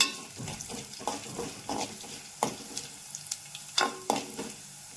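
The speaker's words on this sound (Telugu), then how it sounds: "ఒక స్పూన్ పప్పు వేసుకోవాలి హాఫ్ స్పూన్ జీలకర్ర ఒక స్పూన్ ధనియాలు కొద్దిగా వేయించుకోవాలి" Lentils with cumin and coriander seeds dry-roasting in a hot pan with a little oil, giving a soft continuous crackle with scattered scraping and stirring clicks, close and fairly quiet, no voices.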